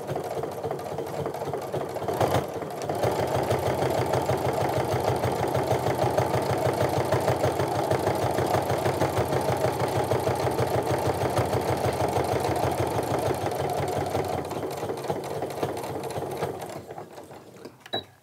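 Sewing machine stitching down a tote bag handle, running in one long steady burst of rapid even clatter before slowing and stopping near the end; close and clear with no voices.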